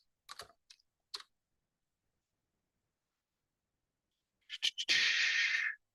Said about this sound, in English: it helps if I can type right